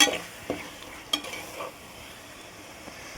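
Onions and tomatoes being sautéed in a pan for a prawn masala gravy, heard as faint scrapes and soft taps of a spoon stirring over a low, quiet sizzle.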